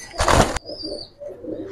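A pigeon held by hand at a market gives a sharp, loud burst of wing flapping, followed by quieter rustling and faint bird sounds.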